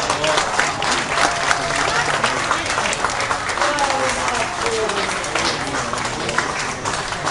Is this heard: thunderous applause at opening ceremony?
yes